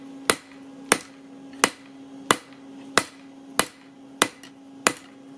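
A hammer flattening a rebar knife blade at the forge, eight sharp ringing strikes at a steady rhythm, loud and close, with a faint hum underneath.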